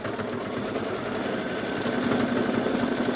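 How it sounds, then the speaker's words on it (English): An embroidery sewing machine stitching the next thread colour to join the sides to a base, a steady fast mechanical chatter running continuously and close, growing slightly louder toward the end. "And we'll let the next colour stitch, and that will stitch the sides"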